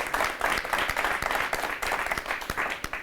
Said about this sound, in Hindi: जरा जोरदार तालियां एक बार ममता शर्मा जी के लिए।